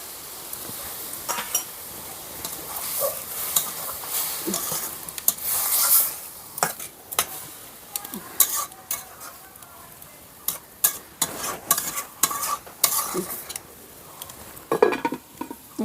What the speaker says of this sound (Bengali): এবার 250 গ্রাম দুধ দিয়ে এটিকে 10 মিনিট চাপা দিয়ে রেখে দেব